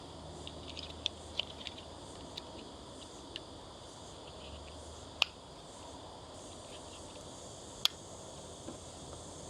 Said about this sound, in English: don't you love the serenity of the cicadas or crickets on a nice warm summer afternoon?